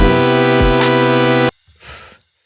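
A lush future bass synth chord with its root note dropped into an inversion rings out dense and loud for about a second and a half, then cuts off abruptly, followed by a soft breathy swell and silence.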